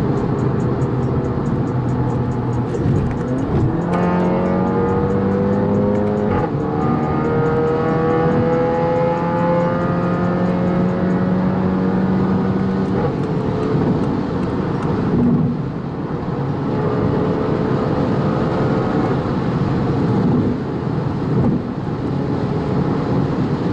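A 2016 Audi TT accelerates hard, its engine note climbing steadily through the gears in a loud, continuous run with rising tones and brief shift breaks, heard from inside the car with no talking.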